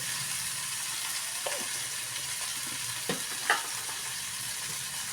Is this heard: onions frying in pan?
yes